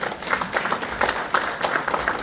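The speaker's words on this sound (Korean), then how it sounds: "여러분 뜨거운 박수로 모시겠습니다." An audience at a ceremony in a National Assembly meeting room claps briefly for a speaker, a short burst of moderate, fairly close hand claps with no talking.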